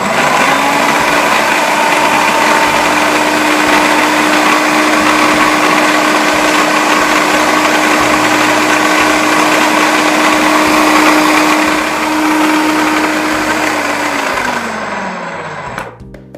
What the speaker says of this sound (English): You wanna put it in your food processor and put it on a setting that is pretty high